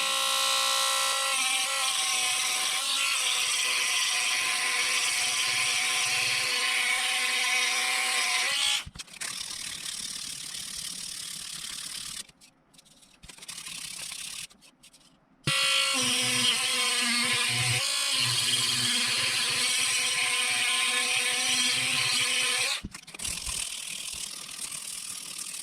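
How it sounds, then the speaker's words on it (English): A Dremel rotary tool sands a gun grip in a steady, loud high-pitched whine that drops out briefly midway and again near the end. "A little more sanding with the Dremel."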